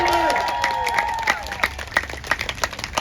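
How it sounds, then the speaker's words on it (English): At a busker festival grand finale, an outdoor street-show audience claps for a volunteer, dense applause with a few whistles at first, thinning into scattered claps over about three seconds. "When I let go of Brian, give him a huge round of applause"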